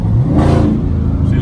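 A Dodge Charger Scat Pack 392 V8 is floored at full throttle, giving a loud, continuous rising roar heard from inside the car, close up and without speech.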